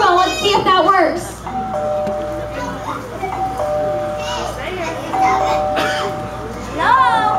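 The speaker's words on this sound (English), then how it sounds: "Oh good, there's a doorbell. Let's see if that works." A doorbell chimes several times at a farm Halloween show, clear bell tones ringing out over a noisy crowd with children's voices and people talking throughout.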